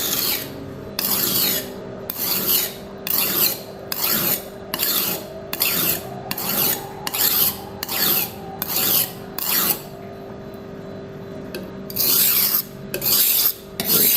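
A knife blade is sharpened on a stone with steady, rhythmic rasping strokes, about a dozen loud, close scrapes. A short pause comes partway through before the strokes resume. No one speaks.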